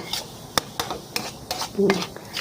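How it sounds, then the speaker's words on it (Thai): Tamarind chili paste with minced pork is stir-fried slowly over medium heat, with a spatula clinking and scraping against the pan in irregular strokes and a soft sizzle underneath. "ใช้ไฟปานกลางนะคะเพื่อนๆ ค่อยๆ ผัดนะคะ"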